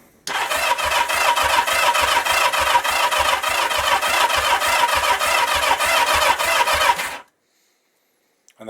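A 1977 Kawasaki KZ650 motorcycle engine cranks steadily on the starter for about seven seconds without firing, a loud, close, rapid rhythmic churning that stops abruptly, leaving silence.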